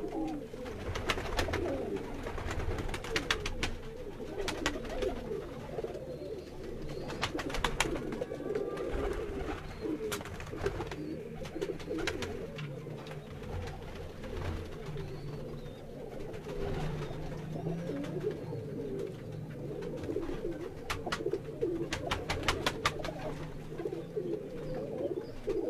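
Golden pigeons and other pigeons kept by a fancier coo continuously at close range, soft layered calls overlapping with scattered wing flutters and no talking.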